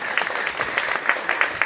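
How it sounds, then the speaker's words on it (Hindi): Crowd applause at a gathering, a steady wash of clapping with distinct individual claps popping out in an uneven rhythm, fairly close and loud, with no speech over it. "क्या हम अपने इस देव के लिए एक बार जोरदार ताली नहीं बजावे?"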